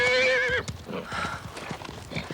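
A horse whinnies loudly at the start, then its hooves clip-clop on hard ground in a steady close walking rhythm.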